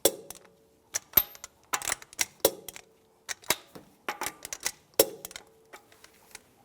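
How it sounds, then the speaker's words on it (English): Torque wrench tightening lug nuts to spec in a cross pattern on a 2010-2016 Cadillac SRX wheel, a series of sharp close metallic clicks and clacks in irregular rhythm, no talk. "Now we're going to torque the lug nuts to 111 foot-pounds in a cross pattern to tighten the wheel down"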